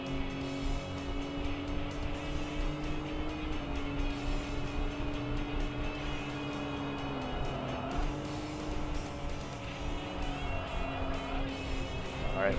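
Race cars, a Bighorn and a Supra, run in the video game Tokyo Xtreme Racer 3, with a loud, continuous engine drone whose pitch holds steady and shifts slightly, and faint voice in the background.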